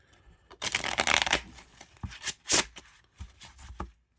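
Slippery, bendy gold-coloured playing cards are shuffled in several quick riffling bursts, crisp and close, with short pauses between passes.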